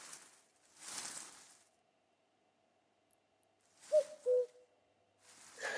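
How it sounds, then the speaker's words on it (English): A cuckoo calls in the Toca Nature nature-building app game: a short two-note call stands out clearly against quiet ambience, framed by soft whooshing game sounds before and after. "We can hear a cuckoo."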